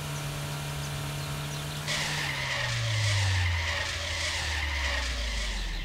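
A car in the video game Trader Life Simulator 2 brakes hard, its engine drone dropping in pitch as a loud, sustained tire skid squeals in and carries on for several seconds.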